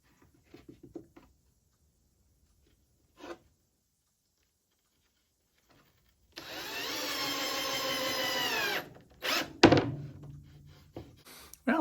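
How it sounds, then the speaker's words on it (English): A power drill drives a couple of screws into a table saw sled with a backboard, a steady whirring burst of several seconds followed by a shorter second burst and a few knocks, with quiet handling taps before. "Now I'm going to flip this over and put a couple more screws in so that this does not bow"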